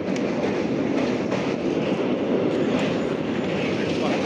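A train rumbles past close by at Prayagraj during the 2025 Maha Kumbh Mela, a loud, continuous roar of wheels and carriages that holds steady throughout.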